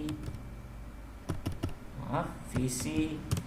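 Keys on a computer keyboard clatter in irregular bursts of clicks, close by, while a voice speaks softly underneath.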